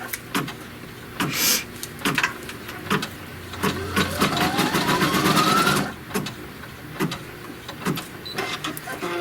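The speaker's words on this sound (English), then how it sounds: "flip it over and then stitch the trim line" Sewing machine stitching a trim line, a close whirring run with a rising motor pitch in the middle, surrounded by scattered clicks and handling noises.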